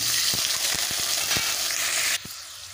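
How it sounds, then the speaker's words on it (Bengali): Potatoes frying in hot oil in a wok, a loud dense sizzle with quick repeated spatula scrapes, the hiss cutting off abruptly near the end. "তেল গরম হয়ে গেছে, এবার আলুগুলোকে ভেজে নেব।"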